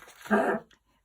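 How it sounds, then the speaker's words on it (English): A single short, rough dog cough, close by, followed by a faint trailing sound and then quiet. "I have to excuse my dog, he's got that terrible cough"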